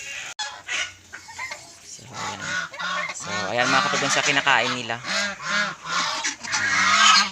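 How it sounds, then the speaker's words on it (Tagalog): Pet geese honk and call repeatedly while being fed Indian mango on a rural farm, their loud nasal cries overlapping with someone talking over them throughout. "ipapakita ko sa inyo na pinapakain ko ito sa aking alagang gansa"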